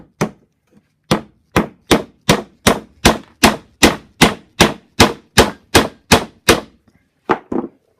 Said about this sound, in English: We'll give that a couple of blows with the dead blow